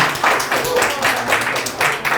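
A crowd applauds the grand prize winners at a college capstone design presentation, with steady, rhythmic clapping that swells in waves, fairly close and loud, and a voice faintly heard underneath.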